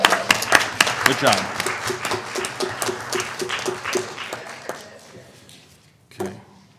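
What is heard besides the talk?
round of applause for parents at board meeting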